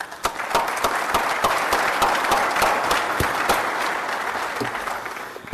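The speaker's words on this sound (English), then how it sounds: "Let's give them a round of applause, please." Sustained round of audience applause at a renewable fuels association gathering in Iowa, dense steady clapping from a crowd lasting throughout, fairly loud and close with no talk over it.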